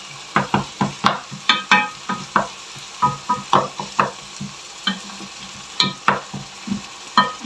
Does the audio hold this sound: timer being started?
no